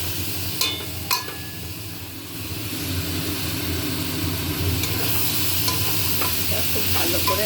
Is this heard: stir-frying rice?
yes